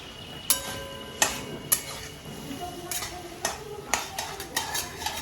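Quiet sizzle of vegetables being sautéed in a pan, with a spatula striking and scraping the metal every second or so, producing ringing clinks over the soft frying.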